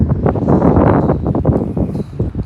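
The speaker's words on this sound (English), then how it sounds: "Sorry about the wind again" Gusty wind buffets the microphone at Portsmouth Harbour, a loud, rough rumbling roar that rises and falls in uneven bursts, close and unbroken throughout.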